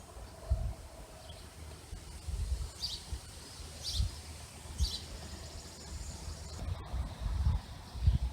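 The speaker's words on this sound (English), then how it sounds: "Here's why the birds are making a lot of racket." Birds calling in a garden: short, faint chirps rise a few times over a rustling outdoor background with low thumps now and then, and no one speaks.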